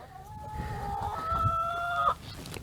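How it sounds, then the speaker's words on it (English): Chickens clucking nearby in a coop, with one drawn-out, rising call that breaks off abruptly, over a quiet background. "So you might be able to see the chickens in there."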